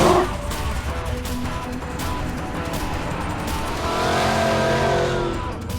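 A custom monster-style truck with a full tube chassis and massive suspension rolls out of a shop, its engine a loud, steady rumble close by that swells briefly near the end.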